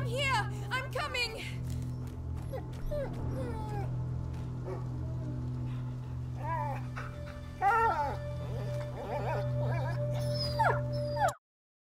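Dog whimpering and yelping in A Plague Tale: Innocence, with repeated high whines and cries over a steady low hum, close and fairly loud before cutting off abruptly.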